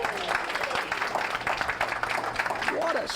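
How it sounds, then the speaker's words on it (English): A bowling alley crowd applauds a converted spare, with scattered clapping and cheering under a commentator's voice through the whole short stretch. "you heard the crowd give him a nice round of applause"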